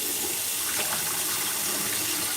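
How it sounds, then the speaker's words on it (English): Water runs steadily from a kitchen tap while potatoes are rinsed in the sink, a constant close hiss and splash with no talking. "let's rinse these potatoes some more"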